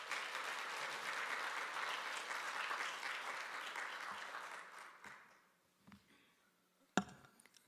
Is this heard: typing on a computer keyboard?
no